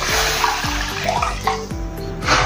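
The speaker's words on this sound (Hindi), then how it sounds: "पानी डाल देंगे" Water pours steadily into a steamer pot used for steaming rice papad, a close continuous splashing and gurgling stream with small bubbling pulses, no talk over it.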